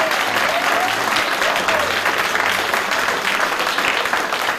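Indoor audience applauding Team England at a 2011 WEPF men's team final against Ireland, a loud, sustained burst of clapping from a large crowd throughout.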